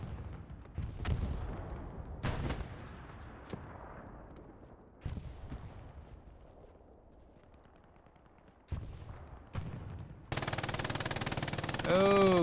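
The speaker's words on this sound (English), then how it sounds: "A leader down here with his MG just shooting across." Machine gun fire rattles in a squad-based war video game, with scattered distant shots and bursts separated by quiet stretches, then dense close firing near the end.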